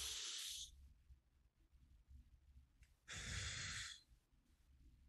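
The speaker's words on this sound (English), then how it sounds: "And I just take a breath in through my nose." A person draws two long breaths in through the nose during a slow relaxation breathing exercise, each a soft airy hiss of about half a second to a second, close and quiet, separated by low room hum with no talking.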